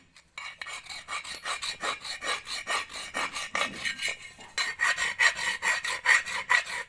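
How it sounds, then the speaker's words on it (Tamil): A hacksaw blade scrapes black residue off a pan in repeated rhythmic rasping strokes, roughly two per second, close and alone with no talk. "ஸோ இந்த மாதிரி நம்ம ஆக்ஸா பிளேடை யூஸ் பண்ணியே இதை க்ளீன் பண்ணிடலாம்"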